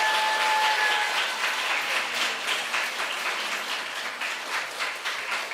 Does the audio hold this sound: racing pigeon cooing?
no